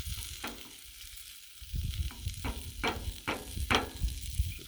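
Pork loin cooking on a griddle, a low steady sizzle with several sharp crackling pops and spatters layered on top, close and fairly quiet, no talking.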